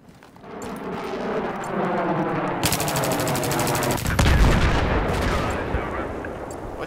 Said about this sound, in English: Shooting us.